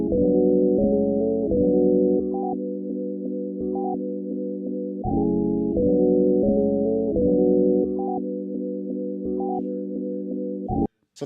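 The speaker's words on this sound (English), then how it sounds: "The sample loop actually sounds like this." A looping melodic sample from a Cymatics pack plays back on an MPC Live 2, with sustained harmonic chords that repeat in a steady phrase and small plucked accents, loud and alone before cutting off abruptly.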